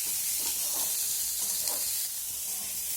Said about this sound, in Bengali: পেঁয়াজটাকে দিয়ে ফোড়নের সঙ্গে খুব ভালোভাবে ভেজে নিতে হবে।